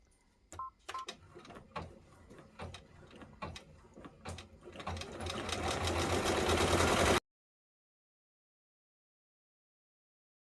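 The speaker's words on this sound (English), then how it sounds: "it's time to put it back on the machine. And then we're going to run the stitch that's going to secure the backing." An embroidery sewing machine stitches the backing onto an appliqué bag tag, a rapid mechanical clatter of needle strokes building to a dense steady whir, close and faint, then stopping abruptly into silence.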